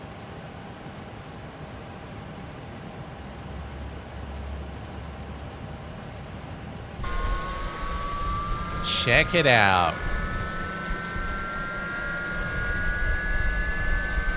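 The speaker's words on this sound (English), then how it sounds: "we are clear to start our engines. The engine mode selector to alpha, and we're going to start with engine number 2" Engine number 2 of an A300-600R airliner starts up in Microsoft Flight Simulator: a steady cockpit hum gives way to a louder whine with sweeping, rising tones as the turbine spools up. A voice speaks briefly.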